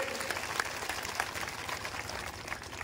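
Crowd applauding at a large political rally in Buxar, Bihar, a steady outdoor wash of clapping lasting throughout, with a few sharper claps standing out and faint voices mixed in.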